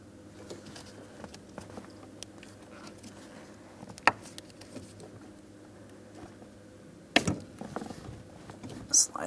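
A rubber brake pedal pad being pulled off the brake pedal of a 2004-2008 Pontiac Grand Prix gives faint rubbery creaks and scrapes over low background hum, with a sharp click midway and a louder rustling burst near the end.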